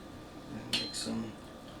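Quiet, close knife contacts as a gyuto makes vertical slices through an onion on a cutting board, a couple of light clicking cuts over low room noise.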